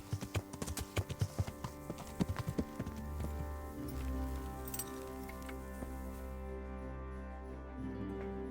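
Horse hooves clip-clop in a medieval video game, a quick run of distinct, close hoofbeats that gives way to a low rumbling ambience with faint clinks.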